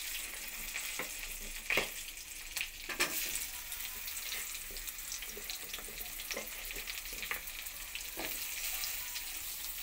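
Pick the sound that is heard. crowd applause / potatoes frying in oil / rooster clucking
potatoes frying in oil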